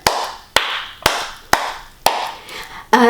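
Hands clap five times in a steady, evenly spaced rhythm, each clap crisp, close and loud with a short ringing decay, ending as music starts.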